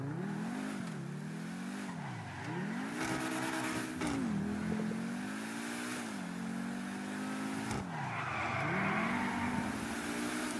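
A super car engine in GTA 5 revs and roars continuously, its pitch repeatedly sweeping up and dropping back through gear changes, loud and close with tire noise.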